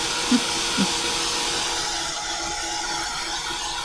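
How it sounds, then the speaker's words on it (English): A hair dryer blows steadily to dry ink on an art journal page that has a coat of clear gesso, a continuous close airy roar running alone throughout with a couple of brief bumps near the start. "Let me dry this ink a little bit."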